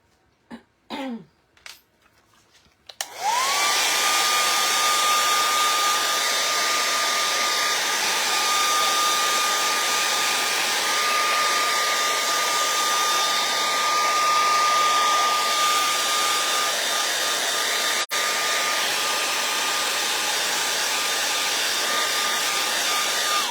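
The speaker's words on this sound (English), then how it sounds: "I'm going to dry it really good with a hair dryer." A hair dryer blows in a steady, loud whir for about twenty seconds, after a couple of brief quiet clicks and rustles at the start.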